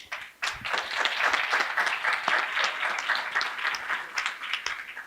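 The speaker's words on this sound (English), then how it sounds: "Just wanted now to ask you for applause to our panelists." An audience applauds the panelists at the close of a panel session, a full, steady burst of clapping that starts abruptly and carries on evenly throughout, fairly close and loud.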